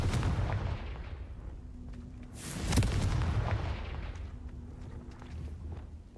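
Fiery explosion spell cast in the wizarding video game Hogwarts Legacy, a loud booming blast peaking mid-clip with rumbling aftermath over continuous low game ambience.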